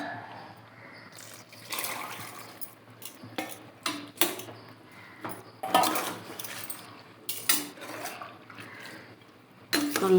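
Boiled peanuts and dried field beans, soaked overnight and cooked, tipped into a pot for a yellow pumpkin kootu, with repeated clatters of utensil on pot and wet splashes at a steady, close-up pace.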